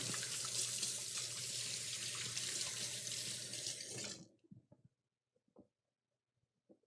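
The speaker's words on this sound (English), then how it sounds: "I'll give my hands a quick rinse here." Tap water runs steadily as hands are rinsed under it, a close, continuous splashing rush that stops abruptly, followed by a few faint clinks and small handling sounds in near silence.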